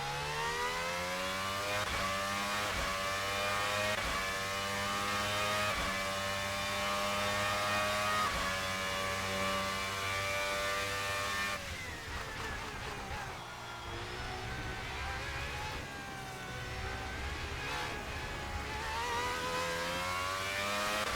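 Formula V12 race cars in Assetto Corsa at the Mexican Grand Prix scream along in a sustained high-revving engine whine, pitch climbing through gears, then a second car blends in as they pass, steady and loud with no talk.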